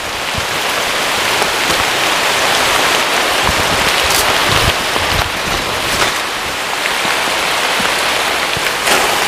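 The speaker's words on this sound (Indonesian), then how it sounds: "Hey, inilah hujan panas kata orang. Hujan panas." Heavy rain pours steadily onto surfaces around a treehouse, a dense close hiss of drops with occasional louder splatters and no voices.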